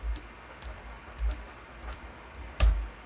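Keys on a computer keyboard are pressed for a Shift+A shortcut in Blender, giving a handful of sharp, close clicks spaced irregularly, with the last one loudest, over a quiet background and no talking.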